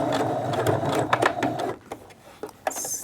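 A sewing machine stitches a zipper onto a reversible hoodie in short bursts of fast mechanical whirring and clatter, broken by brief pauses and small clicks as the fabric is shifted.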